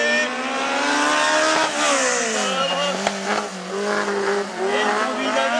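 A BMW drifting, its tires squealing in a loud sustained wail that bends up and down in pitch over the engine's roar, continuous and close throughout.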